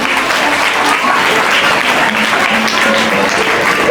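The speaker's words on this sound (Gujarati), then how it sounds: "એકવાર તાળીઓના ગડગડાટથી વધાવી લઈએ." An indoor crowd claps steadily for children receiving prizes at a drawing-competition award ceremony, dense and loud applause sustained evenly throughout.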